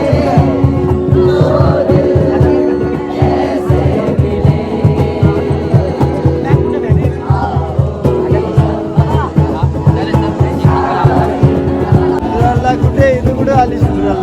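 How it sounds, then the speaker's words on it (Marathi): A dense crowd packs Marine Drive on a Sunday street outing, a thick steady babble of many voices with shouts and background traffic, loud and close throughout. "बाबा जाम गर्दी."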